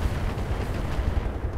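Rockets strike a target in the mech combat game Roguetech, a dense rumbling burst of low booms and crackling impacts, loud and continuous throughout with no talking.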